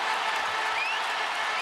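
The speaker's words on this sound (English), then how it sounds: "Crowd trying to get the Pacers going." Basketball arena crowd at an Indiana Pacers home playoff game against the Milwaukee Bucks, a loud, steady wash of cheering and applause filling the hall without a break.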